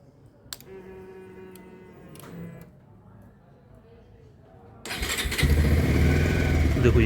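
Bajaj Pulsar 220F motorcycle engine starting up close: quiet ticking and clicks first, then the engine catches and settles into a loud, steady run.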